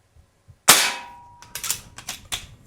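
A single sharp crack from a Diana Bandit PCP .177 caliber bolt-action pellet pistol fired outdoors, decaying quickly, followed by several softer clicks and knocks from handling the bolt.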